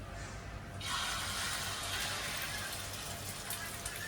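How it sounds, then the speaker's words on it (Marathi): Mixed batter pours into an oiled pan in a steady, gushing stream that runs for about four seconds, close and moderately loud against a constant background hiss. "मिक्स केलेलं या पॅन मध्ये ओतायचं"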